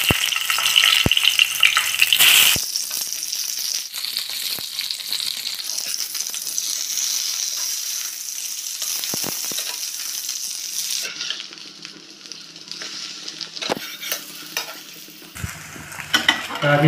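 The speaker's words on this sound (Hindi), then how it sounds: "अभी मैं ब्रिंजल को फ्राई कर रहा हूँ" Brinjal (eggplant) frying in a pan, heard as a steady broad sizzle with occasional clinks and scrapes of a utensil, fading quieter in the second half, with no talking.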